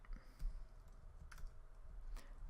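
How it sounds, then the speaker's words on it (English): Keys clacking on a computer keyboard, a few quiet separate taps spaced out over a couple of seconds against low background hum. "in all caps we're going to type update"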